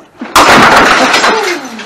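Glass shatters loudly in a smash room, one sudden crash followed by a ringing, tinkling spill of fragments that fades out, with a brief voice just before the impact.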